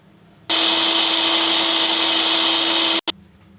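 An electric chopper whirs loudly and steadily for about two and a half seconds while finely chopping onions for seekh kabab, then cuts out, gives a brief restart blip, and stops.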